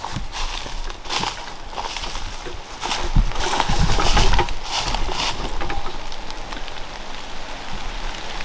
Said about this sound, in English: I can hear the rain coming